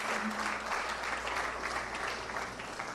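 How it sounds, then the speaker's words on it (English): Applause from a graduation audience at a Hindu school ceremony, a dense steady wash of many hands clapping at once, fairly close and sustained throughout with no voices rising above it. "And give them a round of applause before you take your seat."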